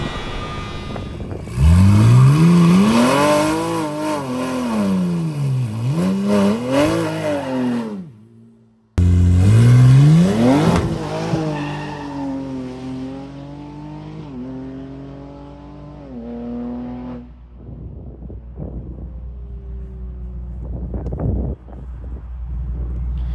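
Car with a Hurricane engine swap launching hard on nitrous, engine screaming up through rising revs, a brief cut, then a second roaring pull fading into the distance with shifts and a final pop.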